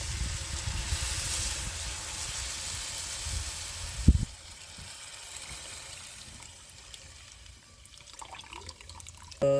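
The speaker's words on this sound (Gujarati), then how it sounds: "તો મિત્રો એ દૂધ આપણે આમાં નાખી દઈશું" Full-fat milk pours in a steady liquid stream into a pot for village-style carrot halwa, a close, continuous splashing rush for about four seconds, then a quieter swirling of liquid.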